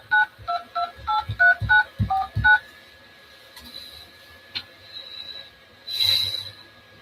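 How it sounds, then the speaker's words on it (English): Telephone keypad tones as a ten-digit phone number is entered into an automated phone menu, a rapid run of distinct beeps with short gaps, followed by a faint steady tone and a brief burst of noise. "Starting with the area code, please enter the 10-digit phone number where you can be reached"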